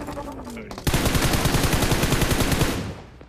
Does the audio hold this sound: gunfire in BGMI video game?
yes